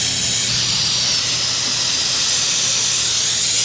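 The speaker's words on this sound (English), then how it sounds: "Let's go try out the new brake bleeder." Pneumatic brake bleeder hissing loudly and steadily, a continuous broadband air rush that stays constant throughout with no talk over it.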